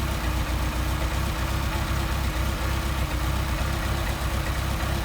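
A Mercedes 190SL engine with Solex carburetors idles steadily after adjustment, a close, even low rumble with a fast regular pulse and no voices.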